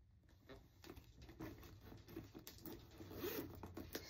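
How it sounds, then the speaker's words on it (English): The large center zip of a Coach tote purse is pulled open in close, quiet detail, a continuous ratcheting zipper run of about four seconds. "And then you have this nice large center zip."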